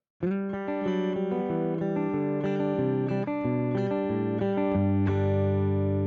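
A guitar plays a quick repeating riff at full tempo, low walking notes punctuated by brighter chords, slightly effected tone, no voices.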